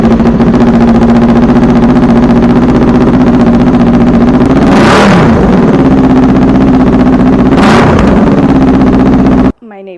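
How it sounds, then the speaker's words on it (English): Kawasaki Ninja 400 motorcycle fitted with a slip-on exhaust, idling loudly and steadily up close, with two sharp throttle revs that rise and fall before the engine cuts off abruptly near the end. "this is what my bike sounds like with my new slip-on exhaust."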